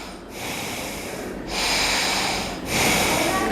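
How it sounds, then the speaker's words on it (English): Three long, forceful breaths rush through the nostrils during a breathing exercise, each a broad hiss lasting about a second, separated by brief pauses, close and clear with no talk over them. "deep exhale"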